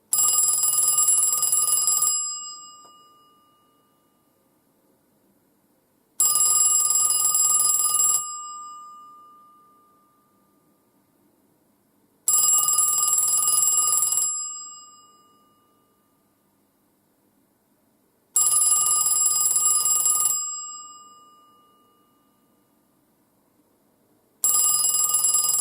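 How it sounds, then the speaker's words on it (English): The older-type bell ringer of a 1972 Western Electric rotary Trimline telephone rings in repeated bursts, each about two seconds long with a resonant metallic decay, separated by pauses, close and clear. "you'll be able to hear the lovely Trimline ringer"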